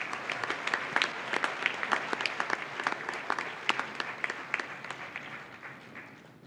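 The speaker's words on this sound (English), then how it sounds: "A round of applause for those." Audience applause at a youth awards ceremony honoring exemplary individual award winners, a dense even patter of many hands clapping steadily throughout, fading slightly at the end.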